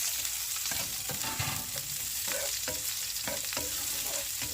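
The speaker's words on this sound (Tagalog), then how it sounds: "So, tamang gisa muna tayo. Unahin natin garlic." Chopped garlic and onions sautéing in a pan give off a dense, loud sizzle. Repeated scraping strokes of a spatula stir through it in an irregular rhythm, close up and without talk.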